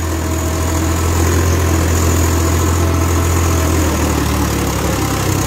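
A Swaraj 855 FE three-speed tractor engine running close by, a loud, steady diesel drone with continuous low rumble and vibration and no pauses.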